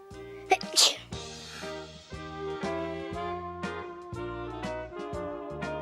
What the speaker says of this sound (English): The soap suds made her sneeze. Achoo!